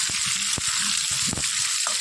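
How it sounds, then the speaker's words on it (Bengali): Potatoes frying in a pan with turmeric, a steady broadband sizzle with a few soft knocks and scrapes of stirring, close and continuous throughout. "এখানে আলুটা দিয়ে দিলাম, একটুখানি লাল লাল করে ভেজে নিই হলুদ দিয়ে।"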